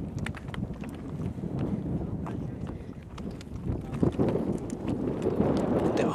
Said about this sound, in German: Und natürlich pfeift uns der Wind um die Ohren.